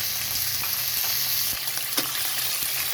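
Large shrimp fry with garlic in hot oil, a close, steady sizzle with soft stirring scrapes throughout.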